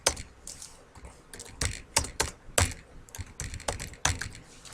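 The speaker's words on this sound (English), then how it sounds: "I'm going to pause while I type." Typing on a computer keyboard in bursts of sharp, close key clicks, with short pauses between clusters of keystrokes.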